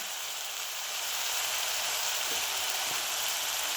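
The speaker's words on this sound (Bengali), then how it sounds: "পেঁয়াজটা একটু ভাজা ভাজা হয়ে এলে এর মধ্যে দিয়ে দিলাম এক চা চামচ রসুন বাটা" Onion and garlic paste frying in hot oil for a fish curry gives a steady, even sizzle throughout, with a couple of faint stirring taps and no talking.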